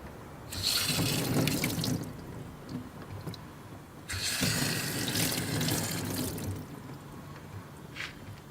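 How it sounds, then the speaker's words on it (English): Running water from a tap gushes in two separate bursts, each about two seconds long with a short pause between, as a surface is washed during garden work, close and fairly loud, then a few faint drips. "Let's give it a quick little wash."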